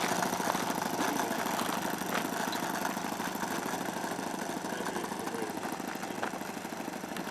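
A small aircraft engine on a Zero airplane runs steadily at a distance, giving a faint, buzzing drone with a fast, even pulse and no break in its tone.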